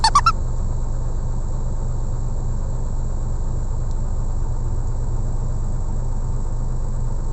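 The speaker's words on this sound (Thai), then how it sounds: "พามาดู แมคโคร ดักหินลูกลังนะครับ กับอาจารย์หนงไก่เก่ง" Steady low engine drone of an SK200 excavator idling at a laterite dig site, continuous and moderately loud throughout, with a brief clatter at the start.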